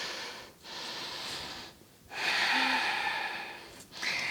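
A slow, audible breath out during a yoga pose: a soft, breathy rush that swells and holds for over a second after a shorter breath, close and alone with no talking.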